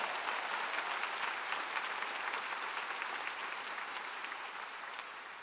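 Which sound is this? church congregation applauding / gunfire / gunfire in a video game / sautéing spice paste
church congregation applauding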